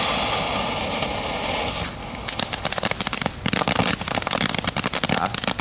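Whistling firework from HEMA: a loud, steady high whistle for about two seconds, then a dense burst of crackling pops continuing to the end, outdoors with no talk.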